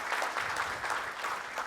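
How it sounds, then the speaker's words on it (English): A room full of listeners applauds at the end of a tech presentation on desktop phones, a brief, even burst of many hands clapping at moderate volume. "let's give a big round of applause to Steven."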